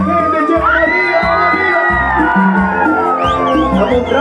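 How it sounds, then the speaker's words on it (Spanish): Crowd at a quinceañera party at Chacra La Esmeralda shouting and cheering over loud, steady live music with a pulsing beat, a continuous dense roar of voices throughout. "Yo quiero escuchar el grito de locura a toda la gente."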